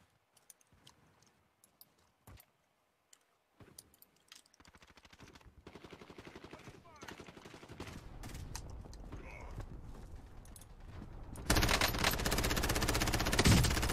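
Gunfire in the Warzone video game comes as quick rapid bursts and clicks, building in density and growing louder toward the end.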